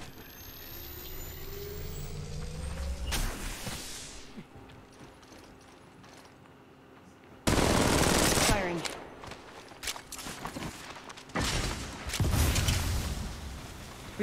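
Bursts of rapid gunfire in Apex Legends Mobile, with loud volleys starting near the three-second mark and again from about seven seconds onward, broken by short gaps, over game mechanisms and faint talk.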